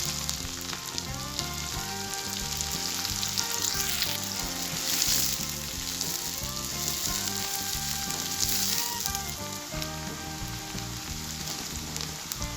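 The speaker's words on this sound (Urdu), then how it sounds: "3 سے 4 عدد باریک پیاز کٹے ہوئے ہیں، اس میں ایڈ کرتی ہوں۔" Three to four finely chopped onions sizzling in hot cooking oil for a chicken dum biryani, a loud, steady crackling fry with occasional stirring scrapes throughout.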